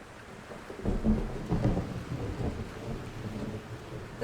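Rain patters steadily around a sailboat while low thunder rumbles in rolling bursts, the storm still some distance off; no voices are heard.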